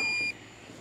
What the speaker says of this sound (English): here comes the battery alarm. I knew that was coming.